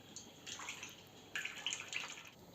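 Jars washed under running water from a tap, a soft rushing splash that rises and falls in two main bursts with small clinks and drips, fairly faint and close, with no speech.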